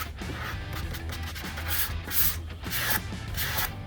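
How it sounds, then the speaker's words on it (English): A palm sander with 220-grit paper rubs steadily along the router-cut edge of a wooden faux epoxy river table, a close, continuous abrasive hiss with rhythmic swells as the tool sweeps back and forth. "we're going to use a palm sander with some 220 on it to do a manual rounding over to smooth that router transition"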